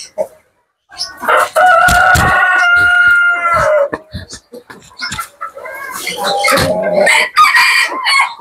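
On a poultry farm a rooster crows loudly and close, followed by bursts of clucking and squawking from chickens, with short gaps of near silence between calls.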